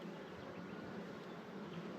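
A dense, steady hum of honeybees swarming over a lifted hive frame during queen rearing, a close, continuous buzzing drone with no talking.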